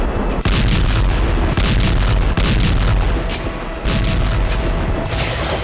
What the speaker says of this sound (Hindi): वहां अचानक शुरू हो गए धमाके।